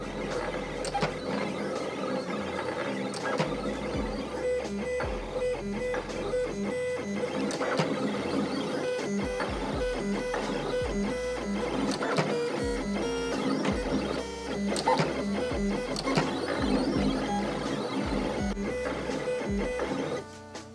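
A Silhouette Cameo 5 cutting machine slices glossy vinyl with an auto blade, its motors whirring and clicking steadily in quick, stuttering bursts for about twenty seconds at moderate volume.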